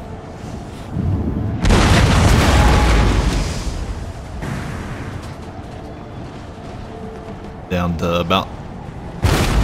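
Cannon shots land in the video game Empire: Total War as a series of heavy booms and bursts, loud and close, with someone talking over the barrage and a sharp crackling volley near the end.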